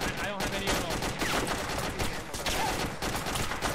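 Rapid gunfire from a Shack Tactical video game firefight, continuous dense bursts filling the whole stretch at steady loudness with no clear gaps.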